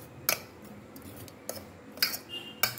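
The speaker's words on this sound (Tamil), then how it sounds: "இப்போ நான் நல்லா கிண்டி விட்டுக்கோங்க" A spoon stirs salna gravy with curry leaves and coriander in a metal pot, tapping the rim in a few sharp, separate clinks over a quiet simmering background.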